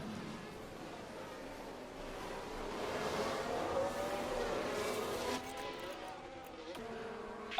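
F1 race cars in F1 Manager 2024 roar past during an overtake, a rising and falling engine whine swelling mid-clip, with faint game sounds and speech-like chatter layered underneath.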